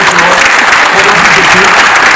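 An audience applauds Shashi Tharoor at a conversation event, dense loud clapping filling the whole stretch evenly, with a few voices mixed into the crowd.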